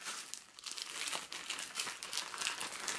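A Sephora Mask Party kit packet being opened and handled, close, busy crinkling and rustling of foil-like packaging with a few sharper tearing crackles, no talking.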